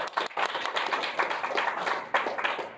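Audience applause at a BotCon 2023 product panel, a steady wash of many hands clapping with a brief lull near the start and a fresh swell near the end.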